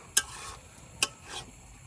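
Egg and pumpkin curry stirred in a pan, two sharp scraping strokes of a spoon against the metal about a second apart, with a faint sizzle running underneath.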